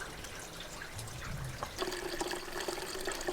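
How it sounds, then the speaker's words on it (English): On a homestead during a 2021 polar vortex, meltwater drains from roof gutters into tanks, a faint steady trickle and splash of running water with no voices. "you can hear it draining into it."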